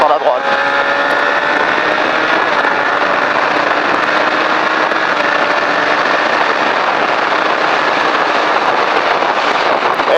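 A race car accelerating down the track's straight, a loud, steady engine roar that fills the whole stretch without a break.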